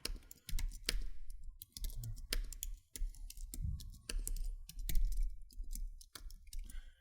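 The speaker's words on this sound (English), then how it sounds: "you can simply press Tab on your keyboard." Rapid typing on a computer keyboard, key clicks coming in quick irregular bursts with short pauses between them, including a press of the Tab key, close and fairly loud with no voices.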